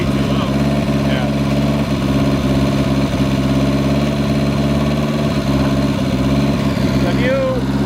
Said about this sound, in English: The idle needs to be set. It could be too low.